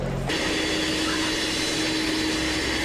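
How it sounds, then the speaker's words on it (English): An airplane lands, producing a loud, steady roar of jet engine and wind noise with a constant high whine, sustained and close for about three seconds, with no voices. "when they finally landed and stepped off the plane"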